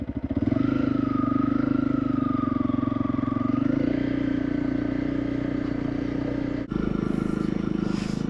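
A motorcycle loaded with camping luggage, ridden in Cornwall: a steady, close engine drone with a low rumble and a faint rising whine, broken by a brief cut before it resumes.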